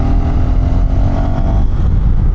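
A KTM 390 Adventure R single-cylinder motorcycle of about 400cc revs loudly nearby, a dense, continuous engine roar that holds steady throughout.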